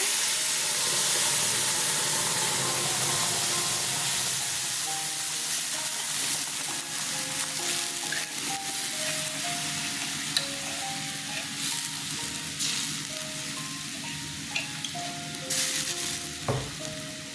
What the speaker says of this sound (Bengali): সর্ষের তেল দিলাম। তেল গরম হয়ে গেছে, একটা শুকনো লঙ্কা ফোড়নে দিয়ে দিলাম। পেস্টটা দিয়ে দিচ্ছি।